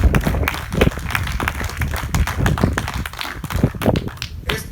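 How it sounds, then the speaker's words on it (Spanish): Congregation in a church claps in uneven, rhythmic bursts, sharp individual claps standing out against a lively room. "Ese aplauso sea para Yahshua"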